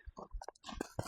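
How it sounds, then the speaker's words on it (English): A horse licking and chewing during trailer training, close and quiet wet mouth smacks and chomps in an irregular rhythm, with no talking. "Licking and chewing"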